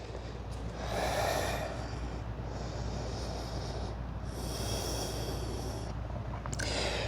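Slow, deep breaths during a yoga flow come as long airy inhales and exhales at close range, each lasting a second or two, over a steady low hum.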